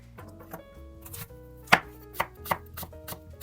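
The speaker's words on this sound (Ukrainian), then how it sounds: "Такими тоненькими скибочками яблучко нарізати." Knife cutting an apple into thin slices on a kitchen surface, a few sharp separate cuts standing out over soft background kitchen noise.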